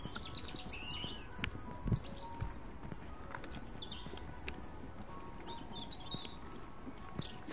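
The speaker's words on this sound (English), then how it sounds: "It's a bird." Small birds chirp and tweet faintly in quick, scattered calls over low background rustle, with no one speaking.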